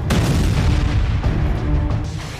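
A heavy, continuous rumbling boom of a rocket explosion from a barrage fired in the Israel–Hezbollah war, loud and close, filling the whole moment with a dense, roaring low-end wash and no voices.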